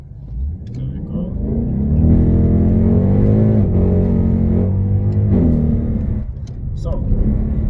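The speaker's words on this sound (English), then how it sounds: "So this car, from a standstill, I'm just gonna do a pull" A 2024 Ford Mustang GT/CS with a naturally aspirated V8 launches hard from a standstill, its loud deep engine roar climbing through gears with brief dips at the shifts, up close, with a little talk at the end.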